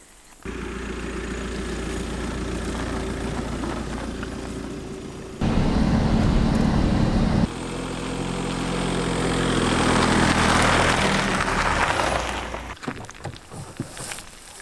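A tractor engine idles steadily at a homestead in Portugal, a loud, continuous low rumble that shifts in tone partway through and fades toward the end, with no talking.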